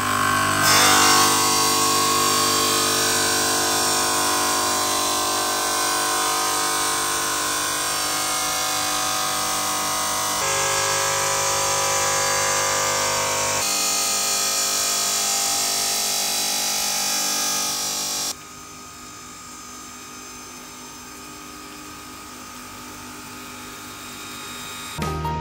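A 3-axis dual-blade bridge saw trims and cuts sintered stone with a continuous loud, high-pitched grinding whine that holds steady for most of the span and drops slightly in level near the end.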